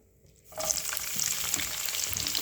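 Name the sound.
bitter gourd frying in a little oil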